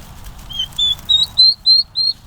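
Young turkey poults, with their long feathers coming in, give a run of six high, thin peeps at a steady pace, each louder than the faint background.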